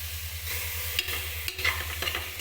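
Soaked peas being stirred into a salted bath rice mixture in a pan, with soft scraping strokes and light sizzle, a few sharper spoon clinks near the end, no talking.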